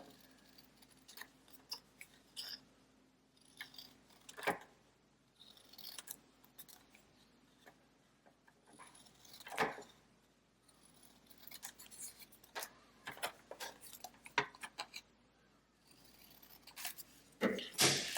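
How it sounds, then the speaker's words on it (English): Quiet, intermittent snips and rustles of scissors cutting paper, irregular bursts close up with soft handling noise between. "I think I can use my scissors for this part if I can cut straight."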